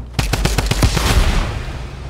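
Gunshots in a shooter video game ring out loud and close as a rapid automatic burst of about eight sharp reports. Each shot slams with a heavy low thump, and the last ones trail into a fading rumble.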